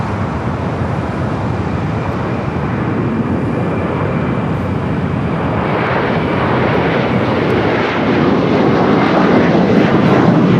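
Jet airplane taking off at LAX, a loud, broad roaring engine rush that builds steadily and stays heavy throughout, heard from nearby.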